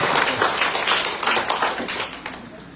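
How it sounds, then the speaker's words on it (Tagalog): A church congregation claps for the Lord, brisk, dense applause that starts strong and gradually tapers off, with no talking over it. "Sa malakas na palakpak para sa Panginoon."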